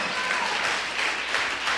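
A church congregation applauds during a sermon, a brief dense patter of many hands clapping at once, steady and moderately loud with no pauses.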